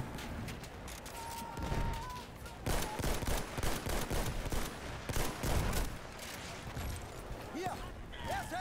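Grenade blast and bursts of gunfire in Battlefield 1 multiplayer, a dense run of loud shots and explosions with voices talking over the action.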